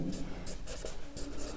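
Close scratchy strokes of writing on a board in a classroom grammar lesson, in short rhythmic bursts with soft pauses between them.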